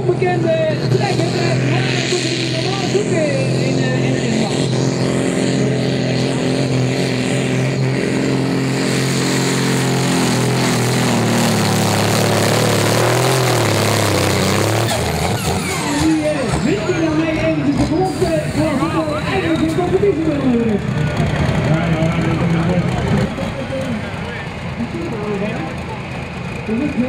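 Supersport 3600 kg class pulling tractor roaring at a tractor-pulling event in Meerkerk, 2014, its loud engine rising and shifting in pitch over nearly half a minute, with a commentator talking over it.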